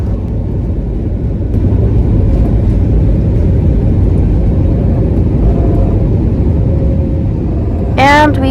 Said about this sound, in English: And we have taken off.